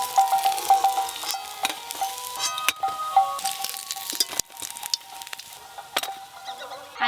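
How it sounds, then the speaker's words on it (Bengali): Malabar spinach leaf fritters made with ground lentil paste and gram flour sizzle steadily in hot oil in a clay pot over an earthen stove, a continuous crackling fry broken by occasional clinks and brief stirring clatter. "ভাজার পরে বড়াগুলো কত ফুলে ফুলে বড় হয়ে যাচ্ছে দেখো"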